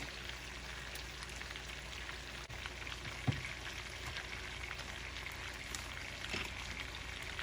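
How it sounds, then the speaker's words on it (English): Garlic frying in butter in a pan for Cajun butter chicken, giving a steady, even crackling sizzle with a faint bump partway through, with no talking. "now that we have our butter in there, let's add some garlic"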